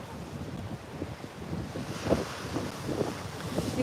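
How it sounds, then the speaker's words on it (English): Ocean surf rolls in beside a jetty, with waves washing and breaking under a steady rush of wind buffeting the microphone, and no one speaking. "So this is the ocean."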